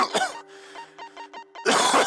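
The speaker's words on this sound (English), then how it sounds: "Sorry, I'm having a coughing fit." A person has a coughing fit, with a few sharp coughs at the start, then a stretch of strained, voiced throat sounds, and a burst of harsh coughing at the end.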